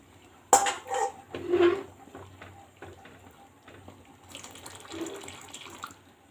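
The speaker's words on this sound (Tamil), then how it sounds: "இப்போ நம்ம கரைச்சி வச்ச புளியை ஊற்றிக்கலாம்." Strained tamarind water being poured into a pot of sambar, a soft splashing pour with clinks of a vessel, first a few close bursts and then a lighter trickling stretch near the end, with no talking.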